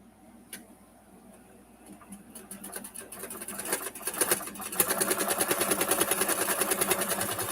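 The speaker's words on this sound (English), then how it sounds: "Yes, my sewing machine likes this thread." A sewing machine stitching through quilt blocks starts slowly with scattered ticks, then speeds up into a steady, loud, rapid mechanical whirr with even rhythmic pulses, heard close up with no talking.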